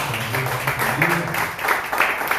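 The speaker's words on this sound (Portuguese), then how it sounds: "Você pode aplaudir o Senhor?" A church congregation claps in worship, a brief burst of steady applause with voices faintly mixed in.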